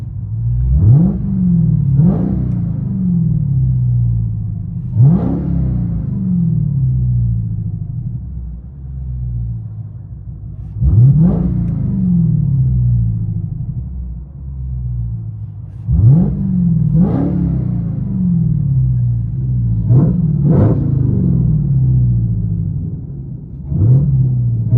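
A straight-piped Dodge Charger Hellcat with a 6.2 engine, heard from inside the cabin. It gives about eight loud, sharp throttle blips rising out of a deep rumbling idle, spaced every few seconds, with each rev quickly falling back to the burble.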